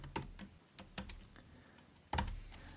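Quiet, close keystrokes on a computer keyboard tap out a few irregular clicks, with a louder cluster near the end while text is typed into a Jupyter notebook cell.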